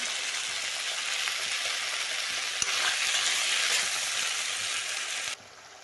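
Chopped tomatoes and salt fry in a pan for a chutney, giving a steady, close hiss of sizzling oil that drops suddenly to a quieter simmer at the end.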